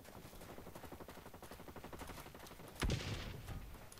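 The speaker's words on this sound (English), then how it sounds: "I keep hearing shooting, I don't know where it's coming from though" Rapid machine-gun fire in the video game Blacklight Retribution, a steady rattle of shots at a moderate distance, capped by a sharper, louder burst near the end.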